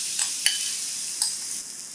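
Chopped ridge gourd meets hot oil tempered with mustard seeds and turmeric in a pan, giving a soft, steady sizzle with a few crisp pops and stirring ticks.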